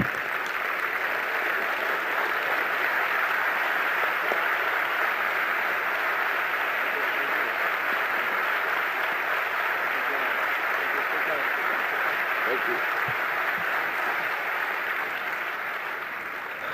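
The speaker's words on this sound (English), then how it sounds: "give us a big round of applause for our president, Dr. Raul Rosenthal" Sustained applause from a standing audience at a medical society's presidential address, a dense steady roar of clapping lasting throughout and easing slightly near the end.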